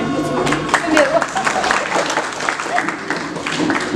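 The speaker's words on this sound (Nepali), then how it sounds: "गडगडाट तालीद्वारा सम्मान व्यक्त गरिदिनु हुनको लागि म हार्दिक अनुरोध गर्न चाहन्छु" An audience claps to welcome the chief guest at the annual general assembly of a Hindu federation in Kaski, Nepal, with uneven bursts of clapping under a speaking voice that continues throughout.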